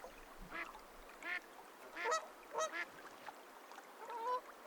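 Sandhill cranes give several rolling, bugling calls in a sparse series, moderately close and standing alone over a quiet outdoor background.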